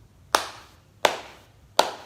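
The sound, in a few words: hands clapping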